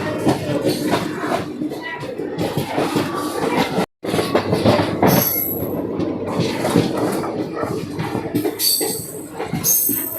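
The Garib Rath Express pulls away from platform number 1, its wagons rumbling and rattling loudly and close by, with occasional squeals of the wheels and a brief dropout partway through.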